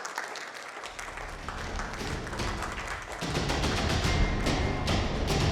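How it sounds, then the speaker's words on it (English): An audience at a corporate customer meet in Pune breaks into dense, sustained applause that swells louder partway through, many hands clapping together with a few thumps. "Let's hear a big round of applause"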